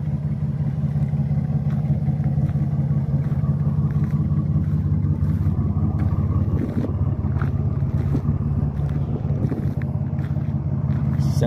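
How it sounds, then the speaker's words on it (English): A 2011 Jeep Wrangler with a supercharged V6 drives along an Arizona highway after a trail ride, giving a steady, deep engine drone with road and wind noise from inside the cab and no talking. "It's a little supercharged V6."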